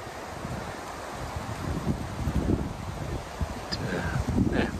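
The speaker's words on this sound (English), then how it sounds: "It's a bit breezy still." Breezy wind gusts at a lakeside campsite on a solo canoe trip, a steady broadband rush with mic buffeting and some rustling, continuous throughout.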